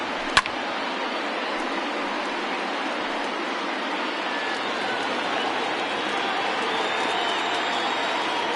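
A baseball stadium crowd of over 39,000 roars on its feet, a dense, steady wall of cheering and applause that holds evenly throughout with no break.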